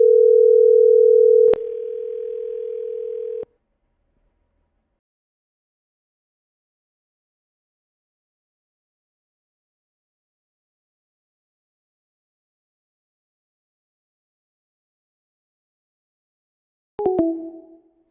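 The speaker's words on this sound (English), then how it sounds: "It's like it's just ringing but not connecting." A telephone line gives a steady tone for a few seconds, then goes silent for a long stretch, and a short electronic chime sounds near the end, clear and close with no voices.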